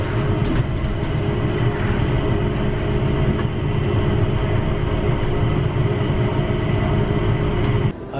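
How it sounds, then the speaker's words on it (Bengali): Riding aboard a train from Singapore's airport, with a steady loud rumble of the rail car and wheels on track, continuous throughout and ending with a brief dip. "তো এবার আমি যাচ্ছি ট্রেন দিয়ে, ট্রেনেও একটা ভিউ দেখা যায়"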